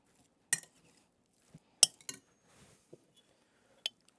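A spoon clinks against a bowl in a few sparse, sharp taps while gravy is mixed into a meat and batter pudding mixture, with quiet stirring in between.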